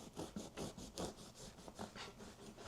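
Knife sawing through a very moist loaf of brown sugar banana bread, with a gentle back-and-forth rasp of repeated soft scraping strokes, close and quiet, with no talking.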